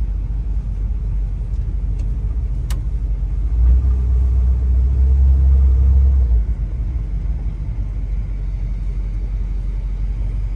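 A 1957 Chevrolet Bel Air convertible's engine rumbles steadily with low road noise, swelling a little louder midway as if picking up speed, then settling back to an even cruise.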